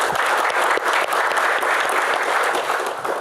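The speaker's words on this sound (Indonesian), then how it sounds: "tepuk tangan untuk David" Audience at a comedy Q&A show clapping for a contestant named David, a dense, steady wash of applause holding loud and continuous throughout with no voices over it.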